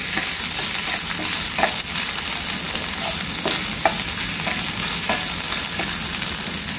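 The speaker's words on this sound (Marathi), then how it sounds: "आपलं तेल गरम झालेलं आहे आणि याला छान हलकंसं परतून घ्यायचं आहे" Chili, ginger and garlic paste sautéing in hot oil while being stirred for momo filling, giving a steady, close sizzle and fry hiss with light scraping stirs throughout, no voices.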